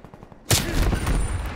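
Gunfire in the video game Call of Duty Cold War, a sudden loud burst of rapid shots erupting after a brief quiet moment and continuing to the end.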